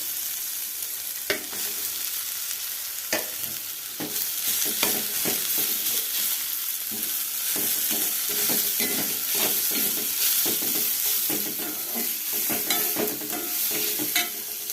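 Shredded cabbage fries in a pan with a steady, hissing sizzle while a utensil scrapes and stirs in repeated clicks and scuffs, close and continuous with no voices.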